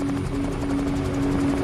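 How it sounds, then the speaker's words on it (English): A helicopter in the Metal Gear Solid V game whirs steadily with a dense rotor thrum and engine drone, loud and continuous throughout the short stretch, with no talking over it. "Yeah, the helicopter."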